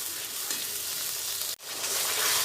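Ground spice paste fries in oil while being stirred for Bengali niramish shukto, a close, steady hissing sizzle with scraping, broken by a sudden brief gap before resuming louder.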